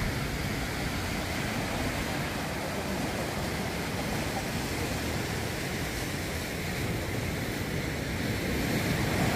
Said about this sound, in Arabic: البحر قاسح ريمو قاسح.